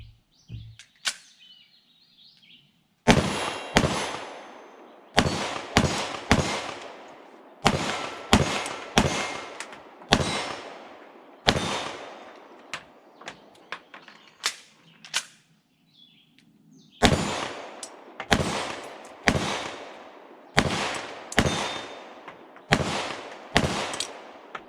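Repeated sharp gunshots from a PSA 5.7 Rock pistol in 5.7x28mm, fired at an outdoor range from about 15 yards, come in quick strings of several shots separated by short pauses, loud and crisp with no talking.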